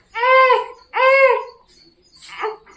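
A baby cries in close, loud wails, two long sobbing cries followed by a softer whimpering one, with brief pauses between them.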